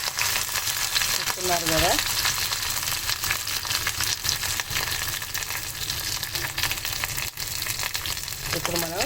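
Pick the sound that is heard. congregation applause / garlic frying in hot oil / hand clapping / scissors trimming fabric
garlic frying in hot oil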